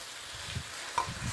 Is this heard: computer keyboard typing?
no